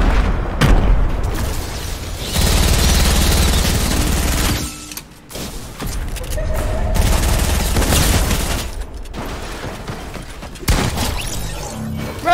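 Fortnite shotgun blasts crack out in sharp, loud bursts at irregular intervals, amid building and mechanical clatter and a dense game-action background, with no talk over them.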